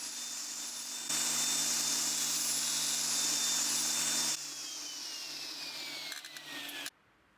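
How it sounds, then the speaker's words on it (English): Table saw blade scoring the grain of a live edge slab for a coffee table: a loud, steady whine that rises as the blade engages at about one second, eases after four, then winds down and stops near the end. "Here I'm just scoring the grain for the rest of the cut."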